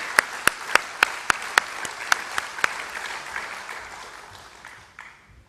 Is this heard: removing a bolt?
no